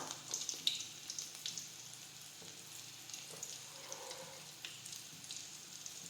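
Garlic fries in oil in a pan, a faint, soft crackle and sizzle with scattered small pops, steady and subdued throughout.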